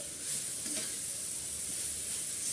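Dheki shak greens and spices being stirred in a hot pan, a quiet steady sizzle and hiss with a faint scrape of the spatula early on, no one speaking.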